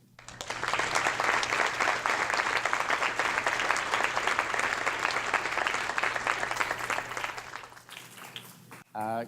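Sustained audience applause fills a school commencement ceremony as a speaker is welcomed, a dense, steady wash of clapping that fades near the end before a brief voice.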